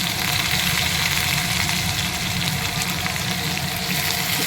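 Chopped garlic, ginger and small-cut green chilies fry in a pan over low flame, giving a steady, dense sizzle that stays loud and even throughout with no talking.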